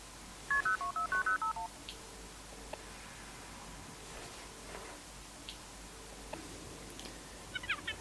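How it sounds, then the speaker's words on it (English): A smart home phone dials out: a quick run of about nine electronic keypad tones near the start, then a quiet room with faint ticks and a few soft chirps at the end. "Okay, phone. Ring, Paul."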